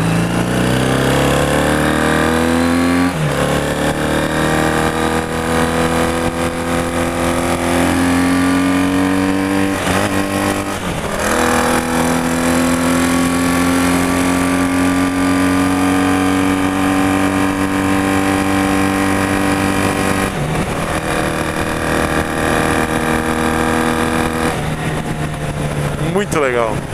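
A 1984 Honda CB400 Cafe Racer motorcycle on a test ride, its engine droning loud and steady, the pitch climbing under acceleration and dropping sharply at each gear change.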